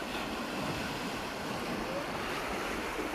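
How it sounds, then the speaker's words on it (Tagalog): The flooded Bual river in Sarangani province flows with a low, continuous rushing wash, faint and fairly distant, with some wind buffeting the microphone. "ari ang sapa nagbaha na"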